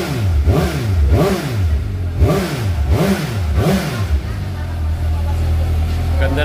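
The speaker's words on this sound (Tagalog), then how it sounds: "GSX 750 mga idol. Napaka-solid na exhaust sound. Inline 4." A Suzuki GSX-S750 inline-four motorcycle exhaust revs loudly in five sharp, evenly spaced blips, then settles into a steady idle close by.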